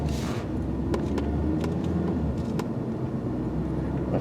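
Ford Focus with a transmission problem and engine light on, heard driving on a test drive as a low, steady engine and road rumble, close, with a few faint clicks.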